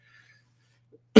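A single short, loud cough from a person with a cold bursts out at the end after near silence.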